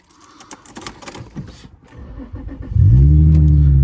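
A Subaru engine cranks and catches, then settles into a loud, steady run after some handling noises and clicks, heard up close.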